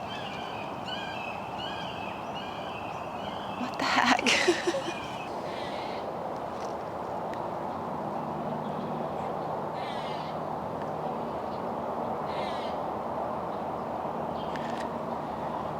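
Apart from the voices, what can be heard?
birds calling outdoors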